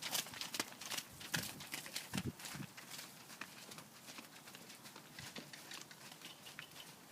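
An event horse being backed works on a lunge line, its hooves clip-clopping in an irregular walking rhythm at close range, with a few louder thuds among the steps and no talk.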